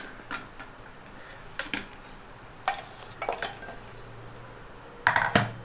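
Roasted lentils and spices for garlic idli podi are mixed in a bowl. A spoon clinks and scrapes against the sides in a few separate bursts, close and fairly quiet, with near-silent gaps between and no talking.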